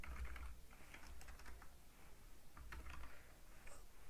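Fingers type on a computer keyboard in quick bursts of soft, close key clicks, pausing briefly between runs while details are entered. No speech is heard.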